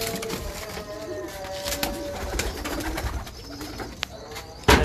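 Breeder pigeons coo in low, soft, repeated calls close by, with light rustling, small knocks and a sharp clack near the end.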